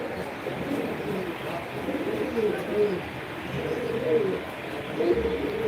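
Several pigeons coo nearby in a loft, low throaty rolls rising and falling in repeated bursts over a constant ambient hum.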